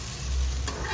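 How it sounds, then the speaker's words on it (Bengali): Fresh home-grown red carrots frying lightly in a pan, giving a loud, steady close-up sizzle throughout the short moment. "এই দেখো, এই যে গাজরটা ভাজছি"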